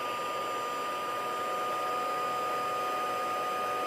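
A heat gun blows continuously while heating embossing powder, a steady airy whir with a faint high whine, close and unchanging throughout with no voices.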